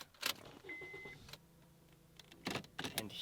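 A crashed 2010 Honda Accord under rebuild is started: a brief starter whir and an electric whine, then the engine catches amid clunks and rustles, close and moderately quiet.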